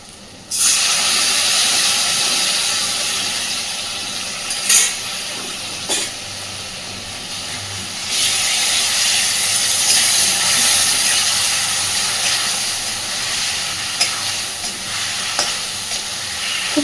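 Hot chili powder masala sizzling loudly in a pan after a splash of water is added, a steady bright hiss and crackle that starts abruptly and holds for the full length with small stirring knocks.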